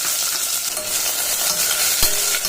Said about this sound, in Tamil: அதோட ரெண்டு வெங்காயம் நீல வாக்கில் கட் பண்ணி வச்சுருக்கேன் அதுவும் சேர்த்துக்கிடலாம்